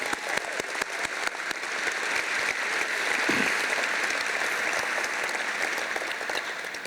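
An audience at an aviation hall of fame dinner applauds, filling the hall with a broad, sustained patter of many hands for about seven seconds that stays fairly steady throughout.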